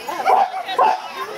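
A person imitates a dog barking during a bark-like-a-dog contest, giving two short, loud voiced barks about half a second apart, close to the microphone.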